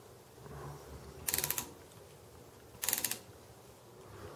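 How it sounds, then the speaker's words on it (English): A hand tap cuts threads into a Dana 60 axle during E-locker modifications, making two short, quiet ratcheting clicks spaced about a second and a half apart over a low steady hum. "now we can cut our threads. Being careful to start the tap nice and straight."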